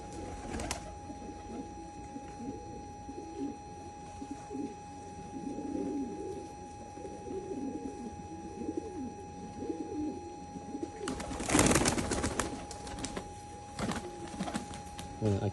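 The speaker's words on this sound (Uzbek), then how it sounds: "Mana shu kabutarimiz." Pigeons coo steadily at close range, low and repeated throughout, over a faint background hum, with a brief louder burst of noise near the end.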